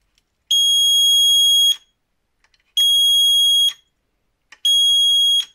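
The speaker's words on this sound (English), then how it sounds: "Buzzer beep or water pump start." A DC 9-12 volt buzzer wired to a water level sensor in a tank sounds three loud, shrill electronic beeps, each about a second long with short gaps between, close and alone without any talk.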